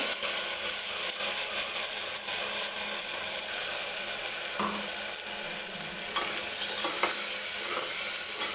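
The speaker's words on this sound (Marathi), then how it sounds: "ती टोमॅटोची प्युरी आपल्याला तेलामध्ये व्यवस्थित भाजून घ्यायची आहे" Tomato puree frying in hot oil with peas for tomato rice, a steady loud sizzle with occasional spatula scrapes and clicks against the pan, close and continuous without any talking.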